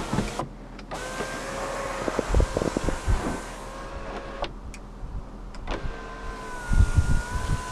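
Electric sunroof motor in a 1995 BMW 840Ci running in a steady whirring hum for several seconds, stopping briefly and then starting again, with clicks and soft cabin handling noises around it.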